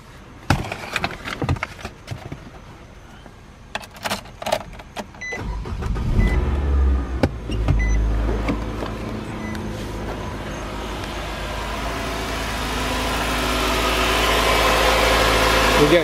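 A 2013 Nissan Sentra with a 1.8 engine, 59,049 miles, in a salvage yard, cranks over after some clicks and rattles, catches and settles into a steady close idle that holds to the end.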